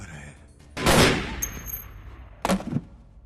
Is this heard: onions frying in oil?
no